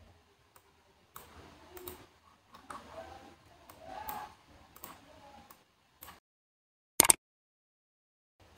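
A computer mouse clicks while editing headings in Microsoft Word, a few sparse clicks and a sharp double click near the end, alongside quiet, muffled speech.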